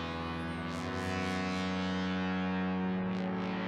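A sustained synth tone through the ghost setting of an Empress reverb pedal, drenched in shimmering, swirling reverb, with ghostly rising swells floating above a steady droning chord.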